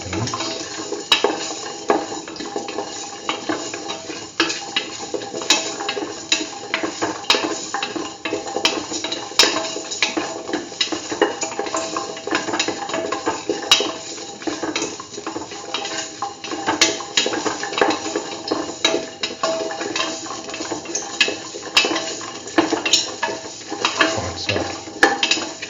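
A spoon stirs salt through a beetroot and mung bean stew in a pot, giving a quiet, continuous run of scraping and clinking with soft liquid sloshing and no talk.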